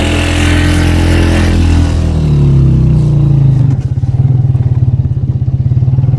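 A motorcycle near Batakundi rides back toward a zipline drop point, engine loud and close, shifting from a rising rev into a fast, even putter as it settles into a steady pace.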